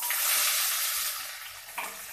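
Chopped onion dropped into hot oil tempered with mustard seeds and cumin, producing a dense, continuous close sizzle that swells briefly near the end.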